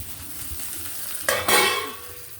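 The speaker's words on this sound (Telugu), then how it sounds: "ఇది ఇలా వేసేసి ఒకవైపు టమాటా ఉడుకుతుంది." Tomatoes cooking in oil in a pan, a steady soft sizzle with a sudden brighter burst of frying and a stir partway through, close and alone without talk.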